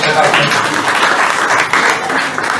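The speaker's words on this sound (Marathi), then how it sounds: "मला वाटतं टाळ्या वाजवून त्यांचं स्वागत." An audience at a Gudi Padwa community get-together in Ratnagiri breaks into dense, loud applause that lasts throughout. A voice can be heard faintly underneath.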